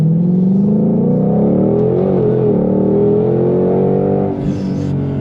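A Ford Shelby GT500 Mustang of the S550 generation with a supercharged engine revs loud and close, a deep rising and falling growl holding steady before easing off near the end.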